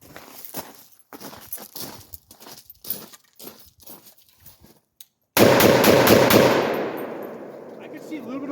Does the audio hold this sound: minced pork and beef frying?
no